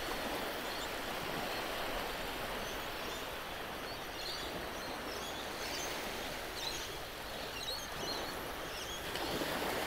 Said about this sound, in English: all the water gets washed down from the mountains and through these streams and back into the ocean